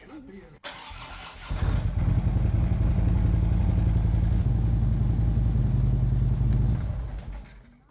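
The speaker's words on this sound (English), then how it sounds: "I'm going to start the bike up." A warm motorcycle engine cranks and catches during an oil change, then settles into a steady close idle that runs loud for several seconds before fading.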